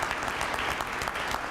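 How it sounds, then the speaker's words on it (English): Audience applause at a Martin Luther King Jr. holiday celebration in Indianapolis, a steady wash of clapping from a crowd, moderately loud and continuous throughout. "a big round of applause for the men of Alpha Phi Alpha presenting the commemorative wreath"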